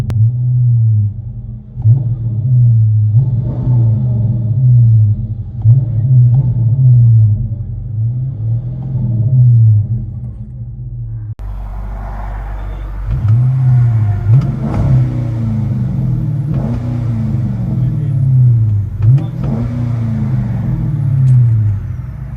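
A Dodge Charger 5.7L R/T HEMI with Flowmaster exhaust rumbles from inside the cabin, its deep V8 burble rising and falling through repeated revs and accelerations, growing louder and rougher in the second half.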